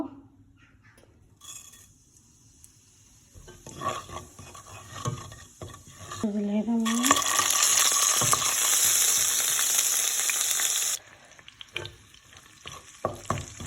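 Cumin seeds hit hot ghee in a pan and burst into a loud, steady sizzle that holds for several seconds before cutting off, with a few softer stirring and clattering sounds before and after.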